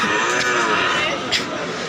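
Emaciated Indian bullocks low amid a steady, noisy cattle-market bustle, the calls blending into broad background din without any clear pauses.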